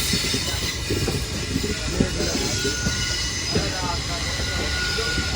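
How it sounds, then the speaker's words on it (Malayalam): Ranikhet Express rolls past into Ajmer station, a steady close rumble of wheels and wagons with faint squealing and track clatter throughout. "അപ്പുറത്തൂടെ അജ്മീർ സ്റ്റേഷനിലേക്ക് കയറുന്നതും റാണിക്കത്ത് എക്സ്പ്രസ് ആണ് കേട്ടോ."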